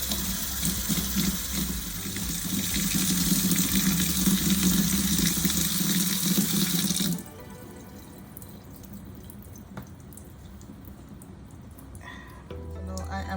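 Tap water runs steadily over hair while it is thoroughly wetted before shampooing 4C hair, a loud broad rush for about seven seconds that then cuts off to quieter room noise and faint handling.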